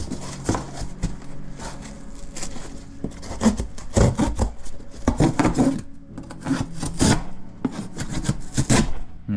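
A very sharp knife scrapes and rasps across body filler in a shed, making repeated gritty, uneven strokes close up with short pauses between them and no talking.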